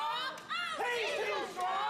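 A wrestling crowd at a live ring event shouts and yells at the wrestlers, overlapping voices rising and falling, close and lively, with a brief dip before the noise resumes.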